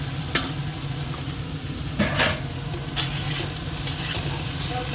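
Poppy seeds fry in a pan with steady, close sizzling and a few sharp scrape-like stirs, no talking.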